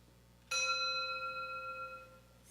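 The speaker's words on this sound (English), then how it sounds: "we have a set of Whitechapel cup bells that look and sound like this." One soft strike on a Whitechapel cup bell, clear and resonant, its pure ringing tones fading slowly over a couple of seconds.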